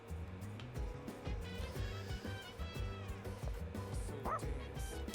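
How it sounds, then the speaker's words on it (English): A dog barks in the Persona 3 Reload video game, a few short yips and woofs set over steady game music and sound effects, moderately loud and up close. "Woof woof."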